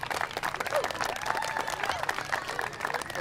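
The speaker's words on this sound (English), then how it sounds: "Big round of applause." A crowd applauds steadily as the new Charlotte FC club president is welcomed at a community gathering, dense clapping with scattered voices and cheers mixed through it.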